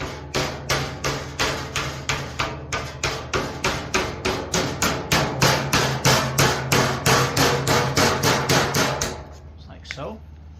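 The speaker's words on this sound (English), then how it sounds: "hammer that down. Completely flat, and bend that up, and then bend her back down." Sheet metal hammered flat in a fabrication shop: a long series of loud, evenly paced metallic blows, about three per second and close by, stopping near the end before a brief faint trailing sound.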